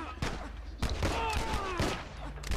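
Gunfire from The Last of Us video game crackles in sharp, broadband bursts of several rapid shots, mixed with game sounds while a person talks over the action.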